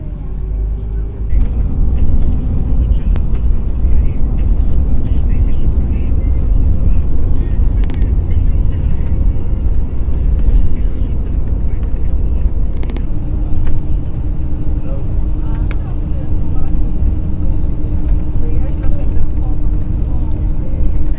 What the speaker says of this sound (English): So then the coach now goes along to Ovda Airport.